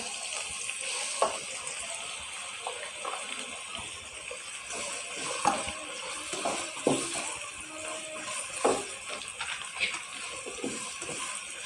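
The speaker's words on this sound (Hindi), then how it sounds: "प्याज और लहसुन को हम थोड़ा सा फ्राई कर लेंगे।" Onion and garlic fry steadily in about half a cup of hot oil, giving a continuous bright sizzle with scattered pops and a few clinks of a utensil throughout, with no talking.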